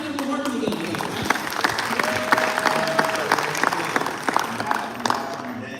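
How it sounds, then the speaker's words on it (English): A crowd applauds and claps at a talk, a dense steady patter of hands with scattered louder claps, while voices and cheers mix in underneath and a brief rising whistle-like tone cuts through midway. "Let's clap it up for working together."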